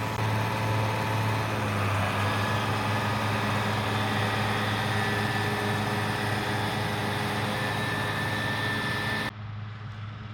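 A tractor with a front bucket idles steadily on a farm during the last hay cutting of the year, its engine a continuous close drone with a sustained low hum, cutting off abruptly near the end.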